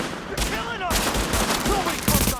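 Bursts of automatic gunfire in The Division shooter game come in quick volleys with short pauses between them, loud and close. A voice talks faintly underneath.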